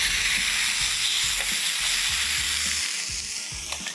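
Chicken steak sears in a hot grill pan with a steady, loud broadband sizzle, low crackles and occasional soft knocks running underneath throughout; no one speaks.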